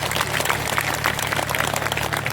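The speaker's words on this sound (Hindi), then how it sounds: "ताली बजा दीजिएगा।" An audience at a Buddhist ceremonial gathering claps in sustained, dense applause, many hands beating steadily and loudly together throughout.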